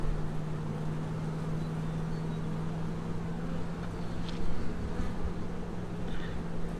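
Black honey bees, workers and drones, buzz steadily inside an open hive, giving a close continuous drone with a low hum running throughout and no talk.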